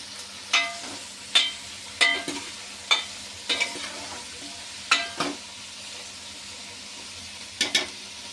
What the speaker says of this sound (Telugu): వేసిన తర్వాత ఇప్పుడు కొంచెం కొంచెం వేగిన దాకా చూద్దామండి కొంచెం ఈ ముక్కలు